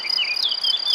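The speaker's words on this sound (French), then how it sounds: "tu écoutes tes grillons" Crickets chirping in rapid, high trilling pulses, close and steady for a moment with no voices.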